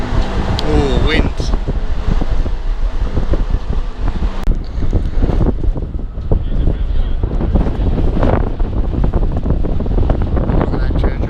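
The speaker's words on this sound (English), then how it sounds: "Oh, wind." Strong wind buffeting the microphone at a high viewpoint in Florence, a loud continuous rumbling gust throughout, with voices talking over it.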